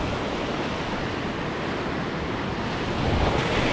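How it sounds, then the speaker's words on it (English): Surf breaking steadily on an ocean beach with white water rolling in, a continuous loud wash of waves that swells slightly near the end, with some wind noise on the microphone. "So you got that white water here,"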